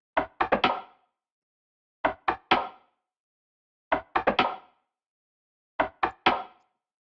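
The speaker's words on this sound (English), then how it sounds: "used a lot of these like stick sounds" Dry stick percussion samples taken from video games sound as four clusters of three or four sharp, woody clicks, each with a short decay, spaced evenly apart against silence.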